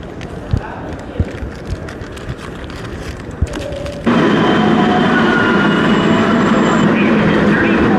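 A New York City 7 subway train rumbles loudly, with clanking wheels at first, then a steady louder roar as it picks up speed, and voices heard faintly beneath.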